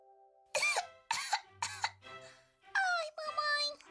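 A child coughs close to the listener, three sharp harsh coughs in quick succession, a pause, then a longer rough coughing fit with strained, voiced breaths.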